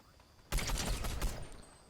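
Gunfire in a competitive solo cash cup video game match: a sudden loud burst of rapid shots starts mid-clip and rattles on for over a second before tapering off, with no talk over it.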